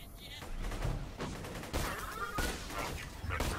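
Sniper rifle fire from a Hyperion rifle in the video game Borderlands 2, heard as a series of sharp, punchy shots amid busy combat effects and clatter.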